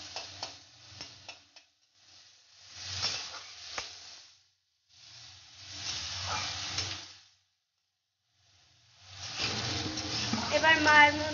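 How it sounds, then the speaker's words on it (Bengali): Cumin and onion frying in a pan for a masala, meant for a galda chingri prawn curry, with hissing sizzles in several separate bursts broken by short silent gaps. "এবার ভেজে নিচ্ছে।"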